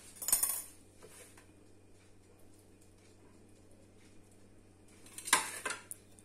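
Salad ingredients tossed and mixed in a bowl with utensils, a burst of clinking and scraping at the start, quiet rustling in between, then another clattering burst near the end.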